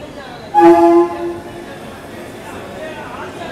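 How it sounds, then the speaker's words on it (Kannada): Pune–Hubli Vande Bharat express train on a line where the Goa Express also crosses, heard as a loud two-tone horn blast about half a second long, then fading into a steady rumble of the passing train. "ಪುಣೆ ಹುಬ್ಳಿ ವಂದೇ ಭಾರತ್."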